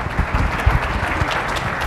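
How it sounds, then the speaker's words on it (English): Brief, dense applause from a conference audience greeting a panel, a close, steady patter of many hands clapping with no talk. "Another round of applause for these guys."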